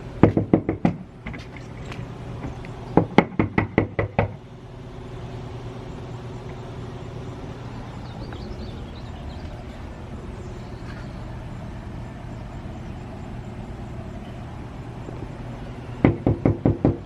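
A house door knocked on in quick bursts of four to five sharp raps, once at the start, again around three seconds and at the very end, with a low idling hum filling the quiet stretch between.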